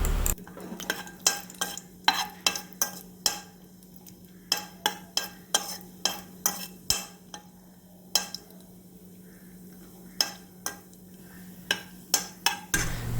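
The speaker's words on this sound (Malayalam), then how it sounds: "ഇനി കുറച്ച് അണ്ടിപ്പരിപ്പും കൂടിയിട്ട് നമുക്കൊന്ന് വറുത്ത് കോരിയെടുക്കാം" Cashew nuts frying in a pan, with a spoon scraping and clinking against the metal in frequent sharp, irregular strokes over a faint low sizzle, close and clear without any talking.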